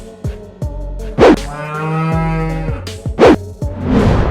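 A cow moos loudly and close by in several drawn-out calls, with short breathy snorts between them and no voices present.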